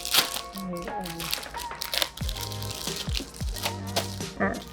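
Crinkling of plastic packaging being torn open on a Perfect Grade 00 Raiser Gunpla model kit, close and busy in bursts, while someone talks over it.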